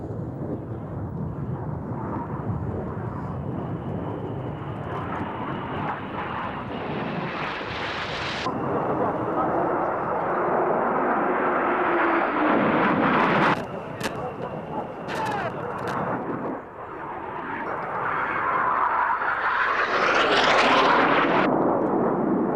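Red Arrows display jets fly at the RAF Mildenhall airshow in 1997, making a loud, sustained, broadband roar that swells and fades as they pass overhead, with sharper surges near the end.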